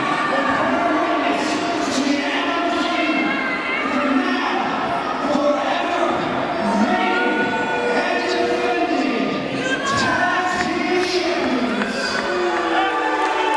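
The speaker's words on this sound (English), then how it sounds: "He is being drowned out by the boos here." A wrestling crowd in a Rossford venue boos loudly and continuously, with shouts and jeers from many voices filling the hall.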